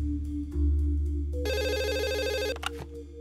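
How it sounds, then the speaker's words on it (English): A telephone rings in the video game Dog Mendonça & Pizza Boy, a steady electronic trill lasting about a second over a low background hum, followed by a couple of short clicks. "I should probably pick up that phone."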